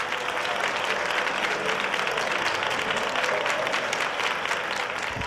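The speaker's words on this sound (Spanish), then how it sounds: "Nuestro gran abrazo y aplauso hoy se va para todos los Isidoros" Applause on a radio show plays as a dense, steady wash of many hands clapping, evenly loud from start to finish with no voices over it.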